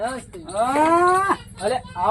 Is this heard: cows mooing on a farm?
yes